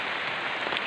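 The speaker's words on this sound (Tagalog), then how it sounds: "Ayan na pa naman yung ulan." Steady rain falling outdoors at a fishing spot, a dense, even hiss of drops hitting surfaces with no voices, close and continuous throughout.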